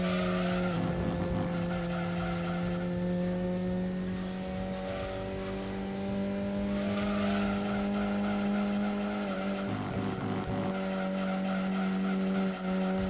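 Race cars in Gran Turismo 2 droning steadily around the Apricot Hill circuit, a loud sustained engine whine with layered harmonics and occasional tire squeal, continuous throughout with no talking.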